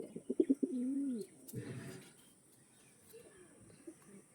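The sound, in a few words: pigeons cooing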